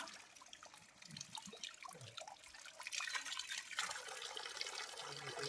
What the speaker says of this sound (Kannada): ನಾನು ಈ ನೀರು ಹಿಡ್ಕೊತೀನಿ